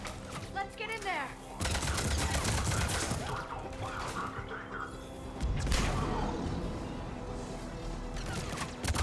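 Gunfire at a checkpoint in the video game Mass Effect 3: dense, sustained bursts of shots and crashing impacts, loud and close, with a brief lull before firing surges again. Voices can be heard in the mix.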